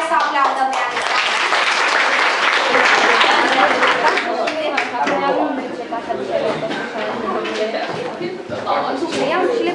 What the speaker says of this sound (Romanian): hai să aplaudăm pe Alexandra.